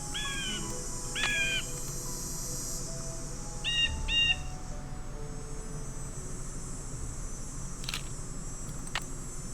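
Synthetic bird calls in the video game Nancy Drew: Ghost Dogs of Moon Lake, a few short chirping and hooting bursts over a steady ambient hiss, with a couple of faint clicks.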